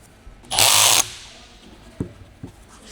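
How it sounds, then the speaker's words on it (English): A specialty tool tightens the lock ring on an upper strut mount with a spherical bearing joint: one loud half-second burst of power-tool whir, followed by two faint, brief clicks, with no talk. "Use the same specialty tool to tighten the lock ring down."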